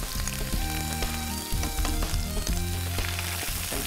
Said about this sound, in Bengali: যখন তেলের সাথে কোনো কিছু ছাড়বেন তেলটা ছিটতে থাকবে